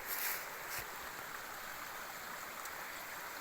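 A river runs beneath a road at dusk, a soft continuous rushing trickle of water, fairly quiet and steady, with no one talking.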